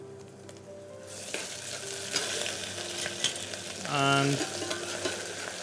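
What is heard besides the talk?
onions and ginger frying for Andhra mutton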